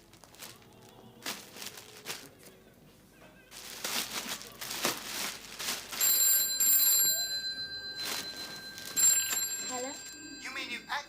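A telephone rings with a high, steady electronic trill in two bursts, set against people talking and shuffling in a room.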